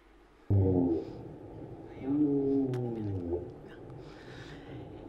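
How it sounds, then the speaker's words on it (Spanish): Humpback whale song rises in long, low moaning and groaning calls that swell and bend in pitch, loud and resonant over a steady underwater hiss. "Estos son los cantos de una ballena jorobada."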